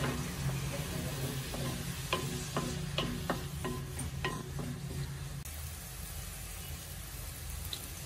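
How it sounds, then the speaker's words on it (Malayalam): Finely chopped tomatoes and onions frying in oil in a pan for a Kerala mackerel chilli curry, a soft, even sizzle. A run of light tapping stirring clicks fills the first half, then the sizzle continues alone. "ഉള്ളി നന്നായിട്ട് മൂത്തിട്ടുണ്ട് ഇനി തക്കാളിയും കൂടെ ഇട്ട് കൊടുക്കാം തക്കാളി ചെറുതായിട്ട് അരിഞ്ഞതാണ്"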